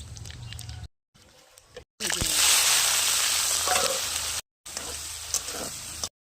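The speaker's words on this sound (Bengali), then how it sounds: "এবারে দুটো শুকনো লঙ্কা আলু ভাজার তেলে আর একটু জিরে ফোড়ন দেবো।" Dried red chillies and cumin seeds hit hot oil left from frying potatoes and set off a loud, steady hiss and crackle that holds for a couple of seconds, broken by brief silences.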